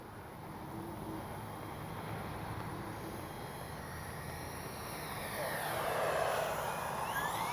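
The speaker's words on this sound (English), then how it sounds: "Now we're going to bring her in kind of low." A Freewing twin 70mm AL-37 RC jet whines steadily, its high pitch shifting as it swoops past low, growing louder near the end.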